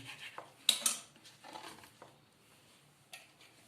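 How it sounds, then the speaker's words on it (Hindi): A knife trims spring onions, with a handful of sharp, separate taps and clicks against a board at uneven intervals, a couple of louder knocks early on, and quiet pauses between them. "स्प्रिंग ऑनियन को हम ऊपर से थोड़ा सा पहले ये काट लेंगे"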